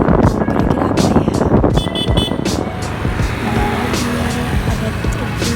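Traffic rolls along a broad street, with a truck passing among cars in a loud, continuous engine and tyre rumble that eases slightly after the first couple of seconds, a brief toot mixed in and people talking over it.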